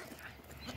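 Goats bleat at their pen around sunset, a soft murmur of animal sounds building to one loud, close bleat at the very end of a brief moment.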